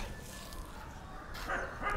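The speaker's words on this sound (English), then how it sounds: "She's an amputated dog, and you can see how she is." A rescued amputee dog lets out whimpering and soft whining sounds that grow louder toward the end, heard close by over a steady background hiss with no one talking.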